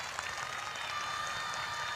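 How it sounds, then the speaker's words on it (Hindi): Audience clapping for a children's stage performance at a prayer meeting, a steady, moderately loud wash of applause from a large crowd that continues without pause. "हौसला अफजाई करें तालियों के साथ"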